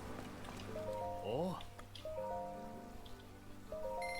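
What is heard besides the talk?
rain falling in video game Zelda Tears of the Kingdom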